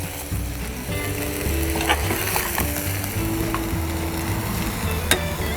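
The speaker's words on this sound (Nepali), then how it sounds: "यस्तो यो ब्राउन भएपछि चाहिँ हाम्रो मासु भुटिएको हुन्छ" Goat meat browning in a pan for curry gives a steady, close sizzle throughout, with faint scraping and clicks of stirring mixed in.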